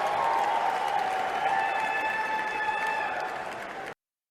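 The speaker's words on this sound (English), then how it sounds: "Thunderous applause." A large crowd applauds steadily, a dense wash of clapping with some cheering tones, then it cuts off abruptly.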